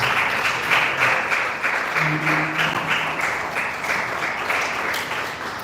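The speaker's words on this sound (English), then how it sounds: "Keep clapping till he gets to the stage." A seated audience at a mental health awareness foundation gathering claps steadily to welcome a speaker to the stage, a dense, even wash of applause that continues throughout.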